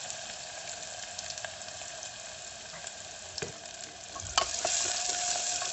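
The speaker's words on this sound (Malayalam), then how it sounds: "എണ്ണ നന്നായിട്ട് ചൂടായി വന്നതിന് ശേഷം ഒരു 2 സവോള അരിഞ്ഞതും 2 പച്ചമുളകും കൂടി ചേർത്ത്" Sliced onions and green chilies sauté in hot oil in a pressure cooker for a potato cauliflower masala curry, giving a steady close sizzle with a few stirring scrapes and a louder clatter near the end, no talk.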